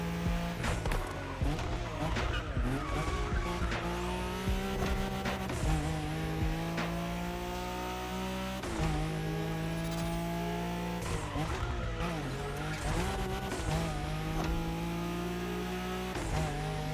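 A Nissan Skyline races flat out along the Wangan route in a street-racing video game, its engine roaring steadily with bursts of tire squeal, with background music underneath.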